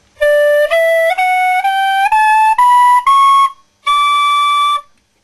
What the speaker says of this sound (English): This is a standard penny whistle.